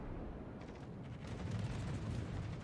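Heavy naval gunfire from a German battleship in a naval combat video game, a loud deep rumbling boom that rolls on without a break for about three seconds.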